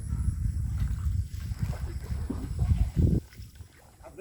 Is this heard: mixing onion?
no